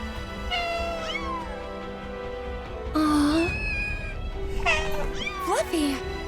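In Final Fantasy VII Rebirth, a cat named Fluffy meows several times, with clear, close, rising and falling cries, some in quick succession, over quiet game background sound.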